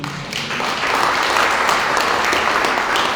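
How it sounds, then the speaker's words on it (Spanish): A church congregation bursts into sustained applause, a dense wash of many hands clapping that swells quickly and holds loud for a few seconds. "Denle un aplauso al Señor."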